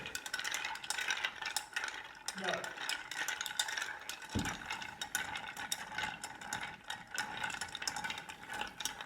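Ice rattles and clinks steadily against the sides of a stirring vessel while a martini is stirred, a continuous close churning with a brief knock near the middle and no talk.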